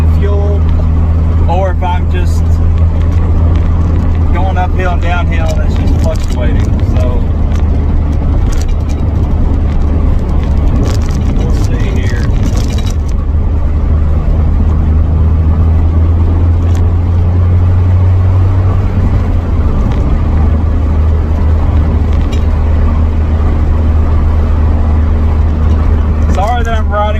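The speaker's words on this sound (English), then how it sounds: "noisy in here because of all the gaps and everything that need to be fixed" Inside a Honda CRX SI cabin while driving, a loud, steady low engine and road drone fills the space, with wind and rattles from gaps in the body and someone talking over it.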